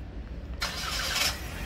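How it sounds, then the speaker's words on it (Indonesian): Toyota Veloz engine starting: a short quiet pause, then a sudden broadband surge as the engine catches and settles into a steady idle, close and moderately loud, with no talk. "Ketika mesin dinyalakan"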